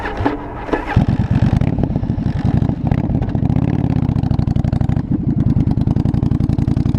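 A loud 1982 Yamaha Virago 920cc motorcycle engine idles roughly, then revs and pulls away, its deep pulsing thump rising and holding steady up close as the bike rides through the streets.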